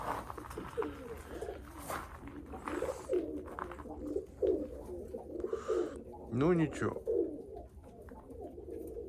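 Pigeons coo repeatedly in soft, throaty bursts, close by, while a person speaks briefly in between.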